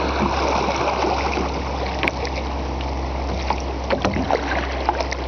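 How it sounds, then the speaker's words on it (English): Small rapids rush and churn around a kayak paddling through weedy water, a steady, close, broadband wash of flowing water with occasional splashes and gurgles, no talking. "A little bit of rapidy stuff here."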